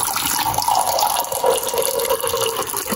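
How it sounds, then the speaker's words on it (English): Water for cooking ugali runs steadily into a pot, a continuous splashing, trickling pour heard close up with no talking. "I am taking 2 cups of water for my ugali."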